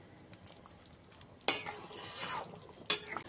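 A spoon stirs fish roe fritter curry in a pan on the stove, with faint sizzling under two sharp scraping clinks of the utensil against the metal pan, no voices.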